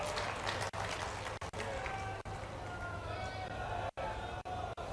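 A rally audience claps loudly in a sustained wash of applause, with several brief drop-outs interrupting the steady crackle of hands.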